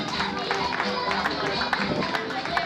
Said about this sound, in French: On applaudit pour l'enfant Abdou.